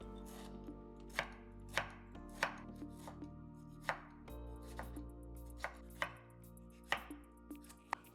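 Kitchen knife finely chopping a skinned tomato on a cutting board, sharp irregular knocks spaced roughly half a second to a second apart, close and crisp with a faint hum beneath and no talking.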